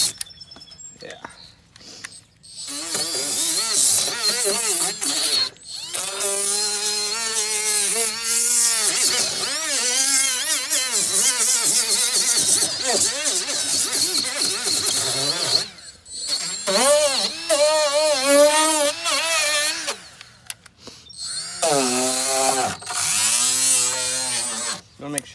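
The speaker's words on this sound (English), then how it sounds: "I'm just wanting to rough it up, give that sandpaper, give that fiberglass something to stick to." Sandpaper roughs up a cracked plastic boat hull around the damage, a loud continuous scratchy rasp in long strokes with short breaks, while a person talks over it.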